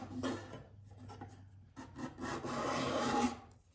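A card scraper is pushed over hard, interlocking wood grain in a few short, faint rasping strokes. It gives a dry scratchy rubbing with small pauses between passes, heard close up without talking.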